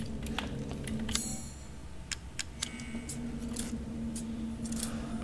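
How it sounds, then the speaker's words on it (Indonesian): Sharp metallic scissor snips from Resident Evil Village, several quick irregular clicks over a low steady ambient hum. "Scissors. Scissors alias gunting."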